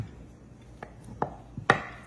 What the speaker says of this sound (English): Let's cut a nice, generous scoop here.